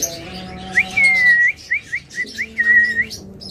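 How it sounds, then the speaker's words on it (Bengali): A pet bird, one of the lovebirds, cockatiels, budgerigars or finches on offer, whistles in a human-like way: clear rising and sweeping whistled notes, some drawn out and some short, close and fairly loud, with no talking. "একদম মানুষের মতো শীষ দেয়।"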